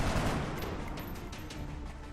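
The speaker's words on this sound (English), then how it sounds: "Well, we'll take a couple shots." Steady stream of gunfire in the turn-based strategy game XCOM: Long War, a dense continuous rattle of shots with no distinct gaps, moderately loud throughout.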